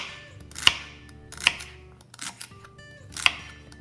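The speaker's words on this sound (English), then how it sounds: "I will cut it down the middle like so. And then just slice away" A kitchen knife slices through a vegetable stalk for stuffing on a cutting board, making three crisp, close chopping thuds at uneven intervals with a softer cut in between.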